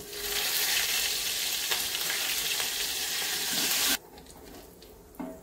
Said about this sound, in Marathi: म्हणून हिंग आणि कढीपत्ता त्याच्यात टाकते।